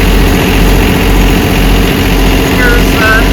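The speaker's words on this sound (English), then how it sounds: "So the generator's running down here" A loud generator runs steadily nearby aboard a boat, its low mechanical drone thrumming with a regular pulsing beat.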